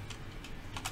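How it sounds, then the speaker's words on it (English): A handful of quiet, separate key taps on a computer keyboard as a command is entered in Fusion 360, faint and spaced out with no speech. "You want to select the box at the bottom left, very bottom, and you want to type this command."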